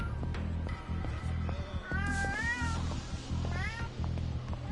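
A cat in the Yakuza 0 video game meows several times in rising, wavering cries, clear and close, over a steady pulsing game soundtrack.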